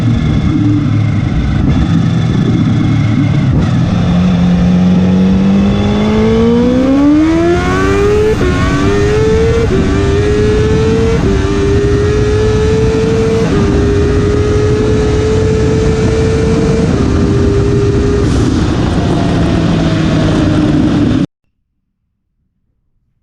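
Kawasaki Ninja H2 motorcycle accelerating hard, the engine note climbing steadily through the gears with brief shift dips, loud and close throughout, without voices, then cutting off abruptly near the end.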